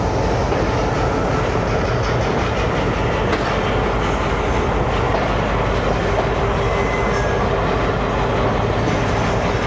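Rumbling rail noise and clattering wheels fill a railway yard where a small GMU shunting locomotive moves train cars. The sound is loud and continuous throughout, with no voices.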